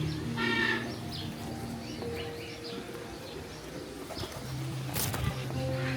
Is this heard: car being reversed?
no